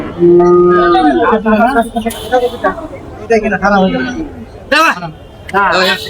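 Cattle low and moo repeatedly amid the babble of a busy outdoor crowd, with people talking close by throughout.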